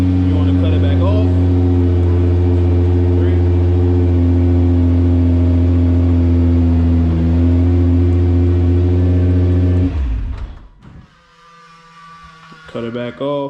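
A Nissan GT-R, just remote-started, idles with a steady, close, deep engine drone for about ten seconds, then shuts off and leaves a few faint clicks and rustles.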